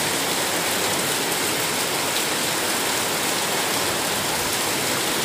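Heavy rain pours down in a steady, dense roar that fills the whole stretch without a break, with no voices or other sounds standing out.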